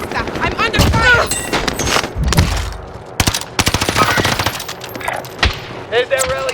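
Rapid bursts of automatic gunfire and single shots crack through a Call of Duty Warzone firefight on Rebirth Island, with shouted player voices breaking in between the volleys.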